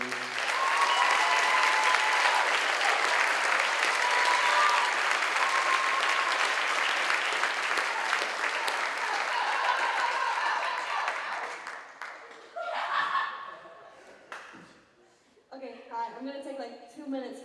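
An audience at a high school senior concert gives sustained applause for the graduating seniors, a loud, dense wash of clapping that gradually thins and fades, followed by a few scattered claps and voices speaking near the end.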